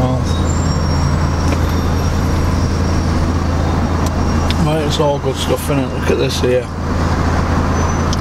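Slow traffic in Sheffield town centre hums and rumbles as a steady roadway drone, with someone talking over it midway.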